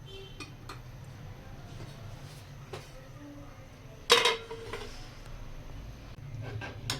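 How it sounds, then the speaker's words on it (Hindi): A spoon stirring kheer, a rice pudding, in a pot over a slow flame: quiet scraping with one sharp metallic clink of spoon against the pot partway through, over a low background hum. "इस तरह चम्मच हमने हिलाते रहना है"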